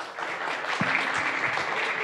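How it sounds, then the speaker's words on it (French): A conference audience at a round-table event gives steady, dense applause that fills the room for a couple of seconds. A faint voice is heard beneath it. "C'est elle que vous applaudissez"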